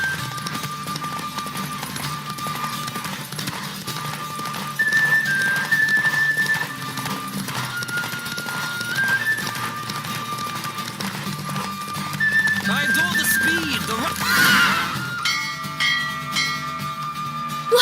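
A horse in a video game gallops with steady clip-clop hoofbeats and an occasional whinny, running under game music and chimes while a voice talks over parts of it.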